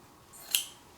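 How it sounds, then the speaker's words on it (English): Scissors make a single short snip through a fabric remnant, a brief crisp cut in an otherwise quiet setting while piecing a quilted mug cozy. "I still need a piece of fabric, so I'm going to cut one"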